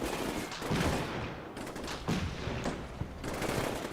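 Sustained heavy gunfire in the Combat Mission: Black Sea wargame, a dense, continuous crackle of rifle and machine-gun fire laying down suppressing fire on a building, steady and loud throughout with no pauses.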